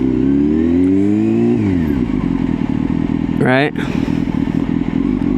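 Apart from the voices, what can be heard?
motorcycle cruising while feathering rear brake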